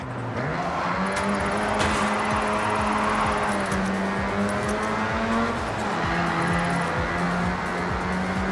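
A Mazda's engine revs hard as tires squeal in long sliding wails, the pitch rising and falling through a continuous drift in Forza Horizon 6, with no voices.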